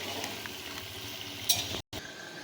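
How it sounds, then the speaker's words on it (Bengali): Potatoes fry in oil for mutton curry, giving a soft, close sizzle with light stirring clinks and one brief spattering flare before a momentary cut in the sound; no speech. "আলুটা আমার লাল লাল করে ভাজা হয়ে গেছে"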